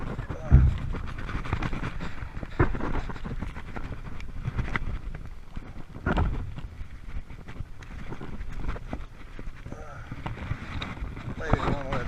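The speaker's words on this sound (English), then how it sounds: "It's windy, not too choppy though" Wind rushes steadily across the microphone while out in a kayak five miles offshore, a gusty, rumbling buffet with occasional splashes and bumps; someone talks briefly at times.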